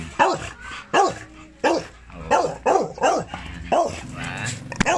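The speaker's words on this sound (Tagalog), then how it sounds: "Yan naman si Kerry, yung beagle." A beagle barks close by in a series of about eight loud, rhythmic barks spaced roughly half a second apart, ending with softer whimpering yips, with faint voices in the background.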